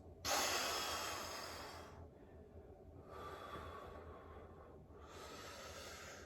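Three long, loud breaths through the nose and mouth, with an inhale, an exhale and another inhale, made by a person doing back-bridge exercises with controlled hip drives. The breaths are broad and airy and heard close up with no talk.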